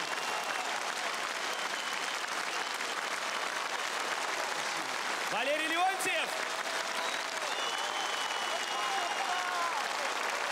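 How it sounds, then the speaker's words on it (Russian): A concert hall audience rises in a standing ovation for a singer, sustaining loud, dense applause throughout while a presenter speaks briefly over it midway. "Давайте стоя ему поаплодируем"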